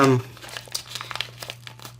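Packaging crinkles and tears in a run of small irregular rustles as a prize package is opened by hand, with a steady low hum underneath and brief talk at the very start.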